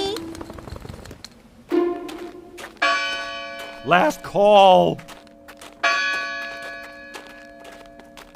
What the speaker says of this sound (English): School bells are ringing.